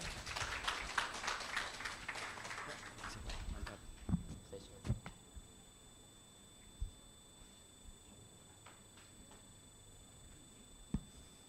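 Audience at a university law faculty international conference applauds, a burst of dense clapping that tapers off into scattered claps and quiet room noise.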